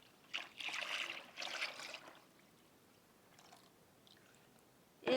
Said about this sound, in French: nous allons verser la lessive de soude